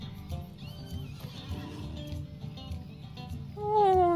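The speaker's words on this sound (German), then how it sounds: "Wie klein das Pferd ist." A horse in the Lord of the Rings Online video game whinnies loudly near the end, after a stretch of game ambience and faint clip-clopping.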